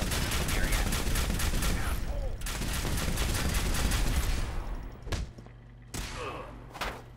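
Fallout 4 video game gunfire: dense rapid bursts of shots rattle continuously for several seconds, then give way to a few sharp, separate cracks with quieter gaps between them.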